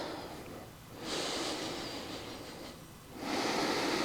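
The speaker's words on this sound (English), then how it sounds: "And we're focused on that nasal breath." Slow, deep nasal breathing during a flexibility stretch: a long audible inhale through the nose, a pause, then another strong inhale, close and steady with no speech.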